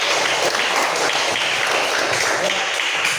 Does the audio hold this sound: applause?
yes